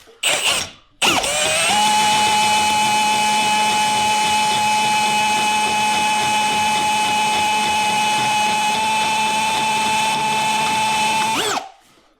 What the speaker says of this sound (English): Easiest way to drill holes.